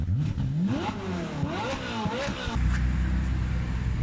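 A Ferrari 458 Spider on a race track revs hard through several rising and falling sweeps, ending in a steady low engine drone, loud and close with no voices.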